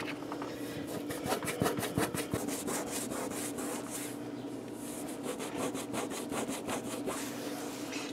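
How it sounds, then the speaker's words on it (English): A Quickie microfiber cleaning cloth is scrubbed back and forth against a surface in quick, rhythmic rubbing strokes, close and steady, with no talking. "I'm still scrubbing pretty good here."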